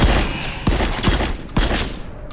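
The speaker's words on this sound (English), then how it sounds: "shooting bad guys doesn't really get old in VR" Gunfire in the VR shooter game The Light Brigade, with three loud, sharp shots roughly a second apart over game ambience.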